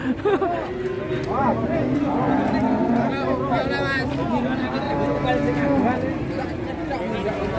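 Several cows moo loudly and repeatedly over a busy crowd murmur in Indonesia, with overlapping calls rising and falling close by.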